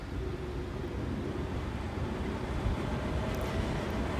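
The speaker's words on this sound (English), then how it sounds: "There go the fans." Cooling fans on an electric car charger spin up into a steady, close whooshing hum of broadband air noise that holds evenly throughout, with no voices.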